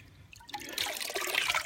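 Water swishes and sloshes in a tub as a camera is scooped through it, a short, close burst of splashing and trickling that rises in loudness after a quiet start.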